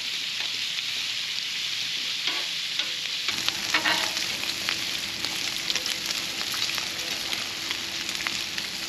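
Bacon sizzles steadily in a pan inside a travel trailer RV. A broad, crackling hiss fills the whole clip, quieter for the first three seconds and then louder and continuous, with small pops scattered through it and no talking.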